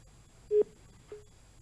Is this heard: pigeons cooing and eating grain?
no